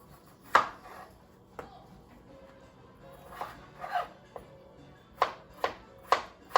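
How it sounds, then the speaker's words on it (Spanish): Raw potatoes being chopped with a knife for a Spanish omelette, with about eight sharp cutting strikes on a board. The strikes come at an uneven pace and grow quicker toward the end, close and clear against a quiet kitchen. "Ahora vamos a picar nuestras papas"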